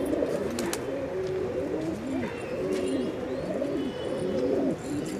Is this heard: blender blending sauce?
no